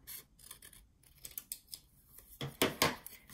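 Paper for a mini flipbook is trimmed with quick, soft snipping and rubbing, ending in a few louder close cuts.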